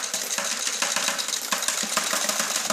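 A penny sorting machine whirs with coins spinning inside, giving a steady, loud mechanical rattle broken by quick regular clicks and clatters of metal.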